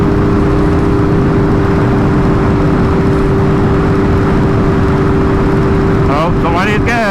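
A Kawasaki Ninja H2 motorcycle engine drones loudly and steadily nearby with a strong low hum, rising into a brief rev near the end, while other road noise blends underneath.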